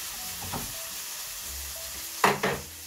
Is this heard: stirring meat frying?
yes